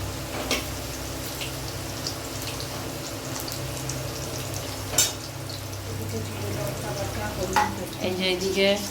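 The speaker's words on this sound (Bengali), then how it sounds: "এবারে আলুগুলো একে একে দিয়ে দেবো তেলের মধ্যে" Potato pieces frying in hot oil for a Bengali kopta curry, a steady close sizzle running throughout with occasional clicks and utensil taps as pieces drop in.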